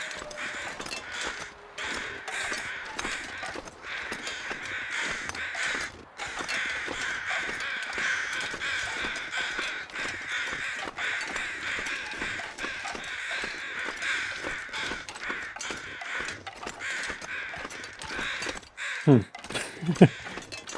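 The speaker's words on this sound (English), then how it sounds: "it sounds like two groups of crows" Crows caw steadily in a spooky canyon setting of a survival video game, a continuous chorus from more than one flock filling the scene at moderate loudness, with a couple of sharper louder calls near the end.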